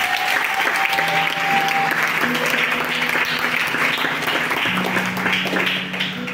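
A church congregation applauding and cheering loudly, sustained clapping mixed with crowd voices and a few held musical tones running underneath.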